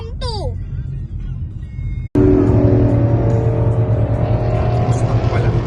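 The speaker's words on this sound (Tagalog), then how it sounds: "Mustang pala. Bagong Mustang pala." A new Ford Mustang passes close by, its engine rising from a low rumble into a loud, steady roar that fills the rest of the stretch after a brief break, with people talking over it at first.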